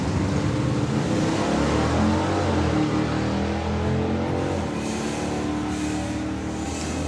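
Drag race cars, an Oldsmobile Omega and a rare Chevrolet Nova station wagon, roar down the strip at a drag racing event. The engines rumble loud and steady for the whole stretch, with no talking over them.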